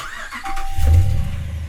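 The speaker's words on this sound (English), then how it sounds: "Now what happens if I start the truck?" A truck engine cranks and catches, a short rising rumble that settles into a low idle, close and fairly loud, with a faint thin whine over it.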